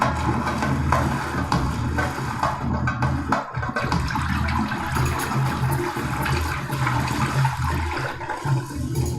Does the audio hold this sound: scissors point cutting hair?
no